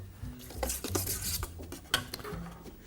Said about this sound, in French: et 2 tours de moulin à poivre.